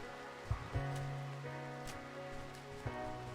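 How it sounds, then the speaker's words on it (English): Rain falls during a thunderstorm in Australia, heard through an open window as a soft, steady hiss with a few faint thuds and knocks scattered through it. "Just let me know if the mic starts picking up the rain and I'll close the window."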